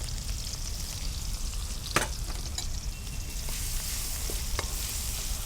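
Small onion pieces sizzle and fry in a pan for a gongura fish curry, a steady close crackle with a few sharper pops and spatters throughout, no voices.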